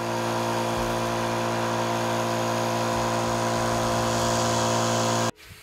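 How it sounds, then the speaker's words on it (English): Small, cheap air compressor running nearby with a loud steady motor drone and hum, with a few small shifts in pitch, then it stops abruptly near the end. "That's a small, cheap compressor, but it really produces a lot of air for a small one."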